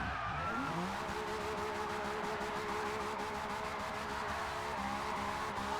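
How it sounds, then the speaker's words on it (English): A drift car doing burnouts in a racing video game, with continuous tire squeal and a droning engine held steady for several seconds, sounding moderately loud and uninterrupted. "See how well she does doing these burnouts."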